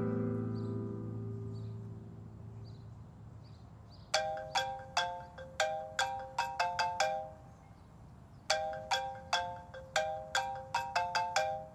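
A mobile phone ringtone plays in two bursts of bright, repeated chiming notes following a low tonal murmur, loud and clear against a quiet background with no talking.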